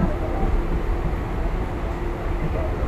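Inside the moving Chennai Mail passenger train, a steady low rumble fills the carriage from start to finish, with no distinct breaks.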